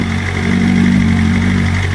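Steady, close engine drone from a BMW M1000RR running an Akrapovic exhaust, holding an even tone without any speech.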